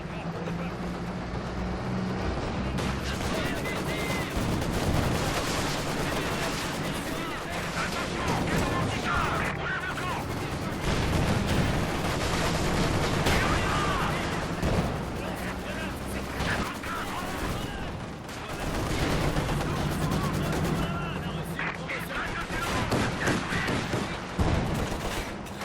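Gunfire rattles almost nonstop in the WWII strategy game Company of Heroes 2, dense volleys and bursts mixed with engine rumble, while voices talk over the battle.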